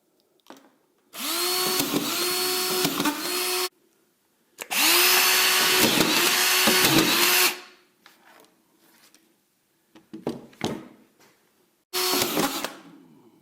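A Senco cordless drywall screwdriver whines through several screw-driving bursts, two long runs followed by shorter ones, each motor spin rising and stopping abruptly, loud and close with quiet gaps between.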